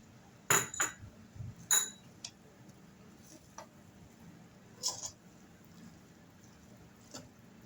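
A spoon clinks and scrapes against a bowl while sauce is mixed into burrito bowl ingredients, a few sharp taps early on followed by quieter scattered knocks, close and fairly soft with no talking.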